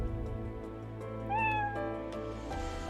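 A cat meows once in a video game, a clear rising-and-falling call over a steady bed of game music and ambience, with no talking.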